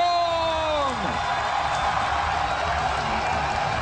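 Large esports arena crowd at BlizzCon roaring and whooping in support of StarCraft 2 player Jaedong during a WCS semifinal, a loud sustained wall of cheering with a descending tonal sweep at the start.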